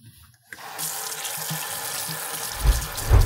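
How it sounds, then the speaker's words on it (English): After a brief quiet moment, a sink tap starts running and water splashes steadily as hands are washed, growing louder with heavier splashes near the end, with no voices. "Now I need to go wash my hands."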